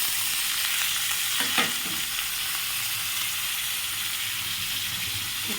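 Onions and tomatoes frying together in a pan over a gas flame, a steady dense sizzle with faint stirring scrapes, close and continuous with no talking.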